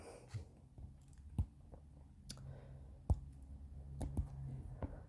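A computer mouse clicks sharply and sparsely, about eight distinct clicks with irregular spacing over a faint background hum.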